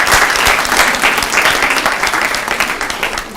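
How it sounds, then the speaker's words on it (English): Loud, close applause fills the room at a student government association meeting, a dense continuous patter of many hands clapping that tapers slightly toward the end. "So I just want to give all of y'all a round of applause for incredible work and incredible"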